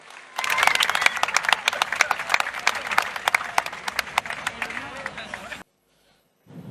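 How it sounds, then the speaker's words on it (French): Lively audience applause erupts at the launch of an international Creole festival, dense rapid clapping for about five seconds before cutting off abruptly, followed by near silence. "qu'on applaudit"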